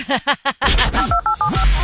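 Telephone keypad tones dial out a number for a radio station's prank call segment, a quick run of about five short beeps following a brief burst of voice.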